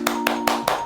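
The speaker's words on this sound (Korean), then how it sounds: "수고하신 모든 분들께 함께 감사와 수고의 박수하도록 하겠습니다" People clap at the close of a church's online Bible correspondence class. The brief burst of sharp, evenly spaced claps comes at a quick regular pace over a faint steady tone.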